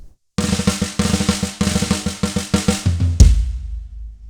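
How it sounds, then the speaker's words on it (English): A drum fill from a song rolls into the main beat, a steady run of punchy kick and snare hits ending on a loud crash that rings out alone. "In the beginning, they use a fill that goes into the main beat, and that fill sounds like this."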